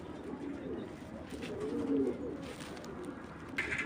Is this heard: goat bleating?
no